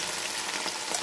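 Ground ginger, garlic and green chili paste fries in a pan for a chicken pulao, giving a steady, dense sizzle and crackle with no pauses and no voices.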